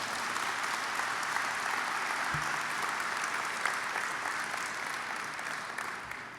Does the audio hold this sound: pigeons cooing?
no